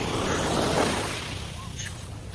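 Strong sea waves crash and roar on the shore at Cabgan, a dense, steady wash of surf with wind, loud and close throughout, easing slightly toward the end.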